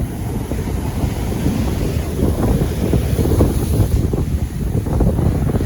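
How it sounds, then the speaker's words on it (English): Ocean waves break and wash along a beach at sunrise, loud and rolling under heavy buffeting wind noise on the microphone. "boy, are these waves something else"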